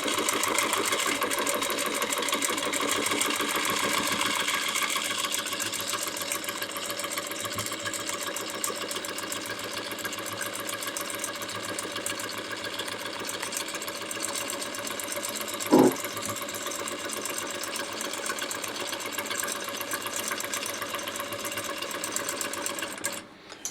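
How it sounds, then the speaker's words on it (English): A sewing machine runs steadily through straight-line free motion quilting on a beginner border design, giving a continuous even whir with one brief sharp click partway through. No one speaks. "you can always stop your quilting, you can stop your machine"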